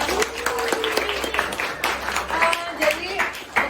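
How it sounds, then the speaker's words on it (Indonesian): Classroom applause from students clapping together, a steady patter of many hands with voices talking over it throughout. "Oke, tepuk tangan ya buat semuanya ya."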